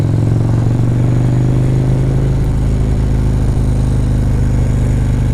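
A Harley motorcycle engine runs at close range, a loud, steady low rumble with a deep pulsing idle that holds throughout while the rider sits still.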